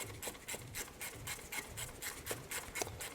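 A ratchet turning out the two T20 bolts that hold the idle air control valve on a GM 3100 engine, giving off a quiet, steady run of rhythmic clicking and rasping strokes heard up close with no talking.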